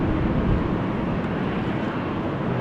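A KLM Boeing 777-300 lines up for takeoff at Amsterdam Schiphol on a stormy day, a steady low jet-engine rumble mixed with buffeting wind noise, continuous and moderately loud.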